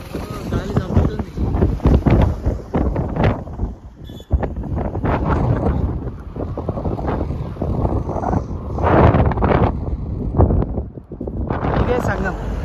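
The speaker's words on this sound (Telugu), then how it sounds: "గాలి చంపుతుంది." Strong gusty wind buffets the microphone at the confluence of the Indus and Zanskar rivers in Ladakh, roaring in bursts throughout, close and heavy, while a person speaks over it.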